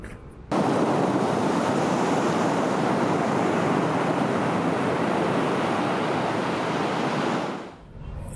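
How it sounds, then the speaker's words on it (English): Surf breaking on a beach along the Aurora Province coast, a loud continuous roar of waves rushing in close by, with wind buffeting the microphone. "We made it to the beach."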